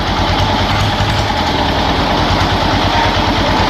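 An eight-cylinder engine idles close by, a loud, dense, continuous rumble with steady low throbbing and no pauses.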